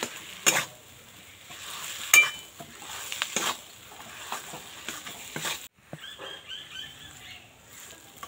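Spatula stirring and scraping mashed boiled potato as it fries in a pan for aloo patties, with a soft sizzle and irregular clatter of utensil strokes, close and moderately quiet.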